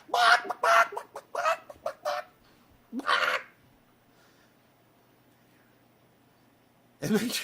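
A man imitates a rooster with a series of loud, rhythmic crowing bursts, followed by a quieter call and a longer pause before another burst.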